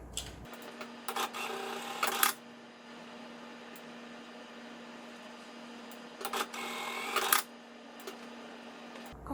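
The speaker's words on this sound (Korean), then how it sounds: "1cm 박음질 하도록 하겠습니다" A sewing machine stitches a 1 cm seam joining the side panel and base of a fabric drawstring bag, running in two short bursts separated by a low steady hum and quiet handling.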